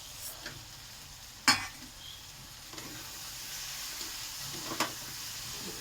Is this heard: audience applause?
no